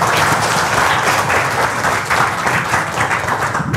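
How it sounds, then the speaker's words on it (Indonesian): Loud, dense audience applause at a health presentation, many hands clapping together in a continuous wash of sound that holds steady and then thins out right at the end. "Tepuk tangan."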